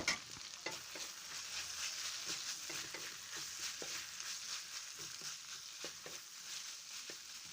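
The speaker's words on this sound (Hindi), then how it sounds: "अब यहाँ पर हम इसमें गोभी को शामिल कर देते हैं। इसको भी हल्का सा फ्राई करते हैं।" Onion and cabbage fry steadily in a pan, a continuous hiss broken by regular stirring scrapes and clicks of a utensil throughout, close and fairly quiet.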